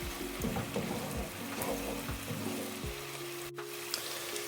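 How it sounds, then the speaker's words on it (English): Chopped garlic cloves and mushrooms frying in a pan, a steady soft sizzle and crackle with faint clinks from cooking utensils, close and quiet with no talk. "now we'll just add in our 2 garlic cloves that are finely chopped. And then we'll just cook this for another 5 minutes"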